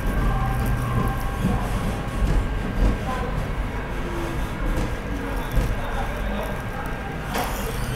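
Onboard the Vande Bharat Express pulling into Bhilwara station, a steady low rumble of the moving train runs throughout, with faint rattles and a person talking over it.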